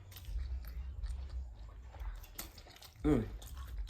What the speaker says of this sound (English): But I'm finna take a bite of this. With the shrimp, my mouth is watering.